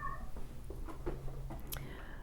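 A frisky cat meows while running with a small toy in her mouth, the calls faint and brief over a steady low background hum.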